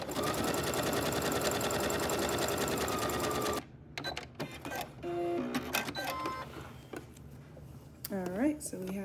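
A sewing machine runs a zigzag stitch along the edge of the fabric, a fast, steady mechanical chatter for about three and a half seconds. It then stops, followed by scattered clicks and handling noises.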